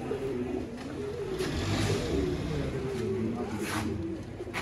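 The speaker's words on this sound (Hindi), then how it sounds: "दोस्तों टैडी कबूतर" Teddy pigeons cooing in a loft, low soft repeated coos close by under a steady hum of background noise and distant traffic.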